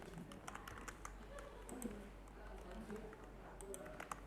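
Quick bursts of computer keyboard typing, close and fairly quiet, with irregular key taps and clusters over a steady low hum while filling in an online tax return form.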